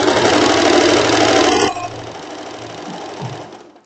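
A sewing machine runs a fine seam on a floral wrap dress, a loud, fast, steady whir that drops abruptly to a quieter hum before trailing off.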